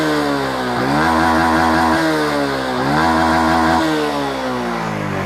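A Honda Wave 110i motorcycle with a newly replaced TPS sensor, revving repeatedly on a test ride, its engine note climbing and falling in several loud throttle blips over a steady close-up drone.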